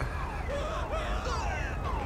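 Ambulance siren in Grand Theft Auto 5, a rising and falling wail that sweeps steadily at moderate distance over a low rumble of traffic and engine noise.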